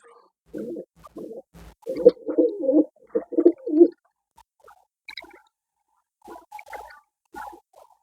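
Pigeons coo close by in low, throaty bursts, a busy run of calls followed by softer, scattered coos after a pause.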